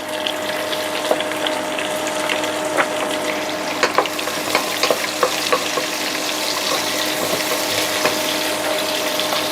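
Chopped capsicum fries with browned onions in a pan, a loud continuous sizzle dotted with frequent crackles and pops and occasional stirring scrapes.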